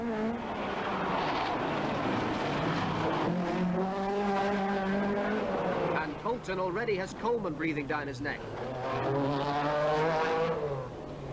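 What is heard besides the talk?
rally cars racing, 1986 Manx Rally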